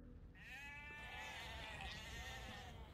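Sheep in Age of Empires II bleat in a wavering, layered chorus of several voices over a low steady game ambience, filling the full three seconds at moderate volume with no talk.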